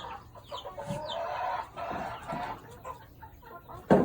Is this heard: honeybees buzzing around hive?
no